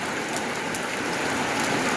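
Steady morning rain falls and patters continuously on surfaces outside a house front, an even, close wash of drops with no voices.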